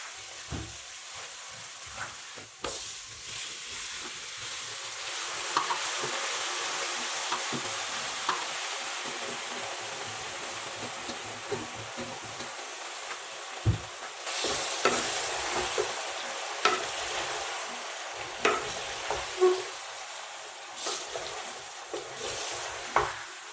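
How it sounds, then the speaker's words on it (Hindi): Pasta being stirred into fried chicken in a pan for a Pakistani village-style vegetable and chicken masala dish, with a steady sizzle under repeated scraping and clinking stirs, no talking. "हमारा चिकन जो है फ्राई हो गया। अब इसमें मैक्रोनीज ऐड करेंगे।"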